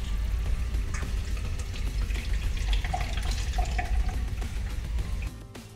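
Water is forced out of a Sawyer Squeeze filter during backwashing, making a close, steady gushing and splashing stream with small gurgling bubbles. It runs alone until it tapers off at the very end.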